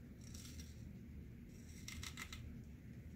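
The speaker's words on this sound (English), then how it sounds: "I can actually use this old piece of felt as a template to cut around." Scissors cutting through a piece of felt: quiet, short snipping and crisp rasps in a few small clusters over a low background hum, with no talking.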